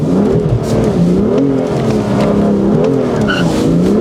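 A car slides sideways on a wet skid track, its engine revving up and down in loud, wavering surges, with faint hints of tire noise beneath the close engine sound.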